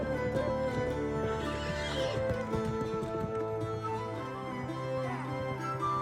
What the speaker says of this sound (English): This is the Przewalski's horse, and it is the last truly wild horse on the planet.